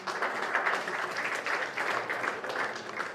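Applause for shooter Michele Bernardi at a European youth rifle championship bronze match, steady moderate clapping from a crowd with faint voices mixed in.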